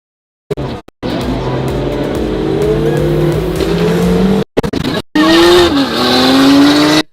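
A loud car engine drones and revs steadily, cut by brief silences, then rises in pitch as it accelerates hard near the end.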